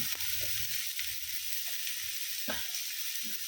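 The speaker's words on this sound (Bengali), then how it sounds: "একটু ভাজা ভাজা হোক আস্তে আস্তে।" Broccoli and red amaranth greens sizzle quietly in a pan, a steady low hiss broken by a few soft scrapes of stirring.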